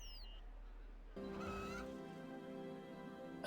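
Chickens in the RuneScape 3 video game give short fowl-like clucks and squawks over steady game tones, with a faint electronic chirp at the start.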